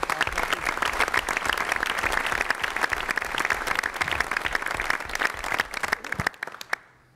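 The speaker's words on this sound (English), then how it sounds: "Let's give him a round of applause." Dense, loud audience applause for the Lieutenant Governor at a New York Rising community reconstruction conference, sustained clapping from a large crowd that tapers off at the close.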